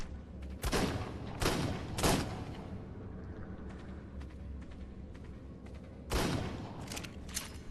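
Gunfire at a shark in the video game Ark Survival Evolved, a handful of sharp, loud shots in irregular bursts over a constant rumbling underwater ambience.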